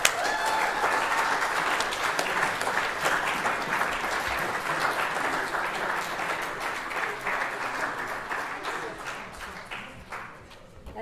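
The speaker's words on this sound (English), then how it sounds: "she should be applauded" Audience applause at a school sixth form prize giving, steady broadband clapping from a large crowd that carries on for the whole stretch and eases slightly toward the end.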